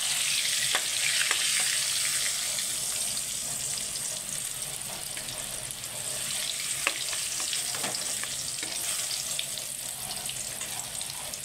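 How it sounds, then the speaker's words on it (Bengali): Pumpkin and potato pieces fry in hot oil in a pan, giving a steady, close sizzle with occasional sharper crackles and pops throughout. "এবার আমি আলুগুলোকে ভেজে নিচ্ছি।"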